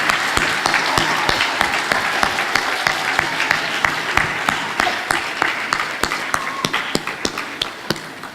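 A school-ceremony audience gives a long, steady round of applause. It is dense and even, with a few sharper individual claps standing out near the front.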